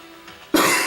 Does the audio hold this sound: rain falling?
no